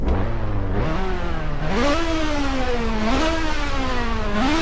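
A Porsche 918 Spyder engine revs in the racing game Test Drive Unlimited 2, rising and falling in pitch in repeated loud surges with a buzzy, steady drone and no talk.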